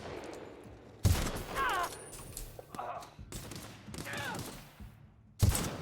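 Sniper rifle shots in The Outer Worlds crack out as several loud, separate blasts a second or more apart, with quieter game sounds and voices between them.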